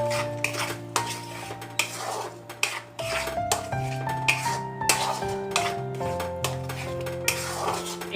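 Chopped tomatoes and spices are stirred and fried in a pan, with a steady run of close metallic scrapes and clinks of a utensil against the pan over a faint sizzle, and no talking.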